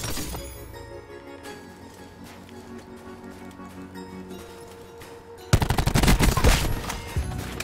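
Video game gunfire in sharp bursts, starting as sparse shots under background game sound and becoming a loud, dense volley of rapid shots in the final two seconds.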